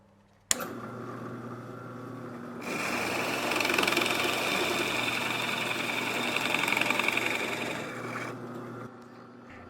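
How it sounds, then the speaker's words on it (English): A Forstner bit bores a recess into wood for bolt heads on a workbench top, a steady close whirring drill that starts abruptly, swells louder midway and runs continuously before easing off near the end. "I also used a Forstner bit to create a recess for the head of some bolts that will hold"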